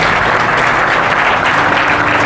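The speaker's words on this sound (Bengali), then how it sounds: "বাপন মালের জন্য এবার জোরদার একটা হাততালি" Sustained applause from an audience at a police recruitment coaching academy event, honoring a student named Bapan Mal: dense, steady clapping that fills the whole stretch without pause, loud and close.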